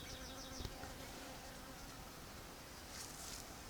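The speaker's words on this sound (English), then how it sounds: "Look at the bees. I see bees." Bees buzzing around a blooming peach tree in a home garden: a steady, faint, continuous drone of several insects nearby, with no talk.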